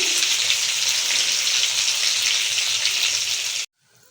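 Dhaka fish frying in a pan gives a loud, steady sizzle that holds without a break for over three seconds, then cuts off abruptly into near silence.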